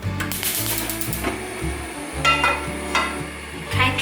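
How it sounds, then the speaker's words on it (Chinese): Marinated shiitake and king oyster mushrooms fry over medium heat in a dry pan without oil, giving a soft, continuous sizzle with scraping and stirring clatter close by. "刚刚腌的香菇和杏鲍菇已经可以了，现在就拿去煎。"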